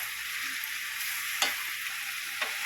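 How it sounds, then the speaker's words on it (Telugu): Broad beans fry in hot oil with a steady, bright sizzle, close to the listener, while a utensil stirs them in the pan with two brief scraping clinks. "నూనె లేచి ఇది ఫ్రై చేసుకోవాలి దొడ్డు చిక్కుడుగా"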